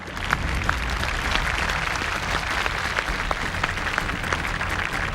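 A studio audience claps to cheer on a young football talent before a crossbar-shooting trick on a Thai TV show, a dense, steady applause running throughout at fairly close range.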